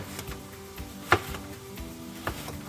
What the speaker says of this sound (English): let's get these apples chopped up